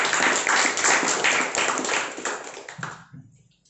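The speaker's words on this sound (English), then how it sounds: "Can we give her a round of applause?" An audience at a speakers' forum meeting applauds a member, dense clapping that holds steady for about three seconds, then thins out and stops abruptly, leaving near silence.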